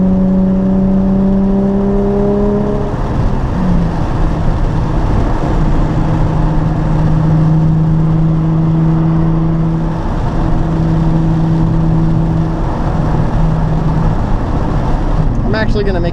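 A Nissan 350Z engine drones loudly from inside the car while cruising at sunset, with shifting engine tones that rise and settle through gear changes over steady road and wind rumble.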